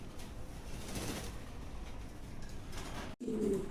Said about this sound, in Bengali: আচ্ছা ভাই, সব কালার কবুতর দেখাবো